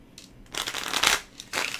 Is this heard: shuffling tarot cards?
yes